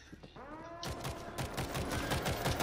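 Rapid bursts of automatic gunfire rattle in the zombie shooter game World War Z, fairly quiet and continuous after a brief lead-in.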